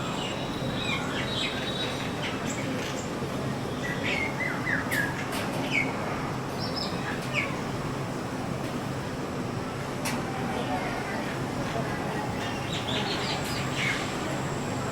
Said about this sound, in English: The calls include croaks, squawks, chirps, clicks, whistles, and growls